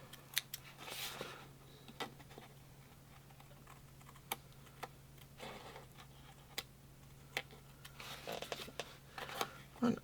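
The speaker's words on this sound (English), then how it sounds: "now I'm going to grab my scissors and just trim this outside edge so that it matches" Scissors trim the outside edge of a handmade paper card in a quiet crafting setting, giving a few sparse, sharp snips and paper rustles at irregular intervals, faint and close, with low background hum.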